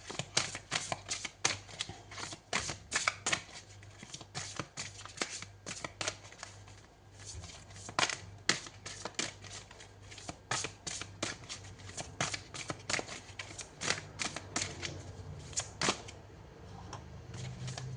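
Tarot cards are shuffled by hand for a reading, a long run of rapid riffling flicks and slaps, close and crisp, continuing in bursts with brief gaps.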